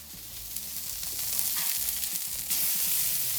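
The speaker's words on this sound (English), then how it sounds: "And now it's already time to flip the flat top griddle burger." A burger sizzles loudly and steadily on a flat top griddle, with a continuous bright hiss and a few small pops and scrapes, heard close up with no talking.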